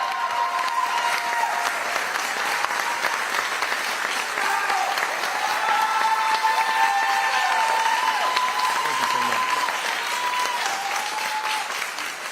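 Sustained audience applause fills a civic gathering at a city's State of the City address, steady and full throughout with a few faint voices mixed into the crowd.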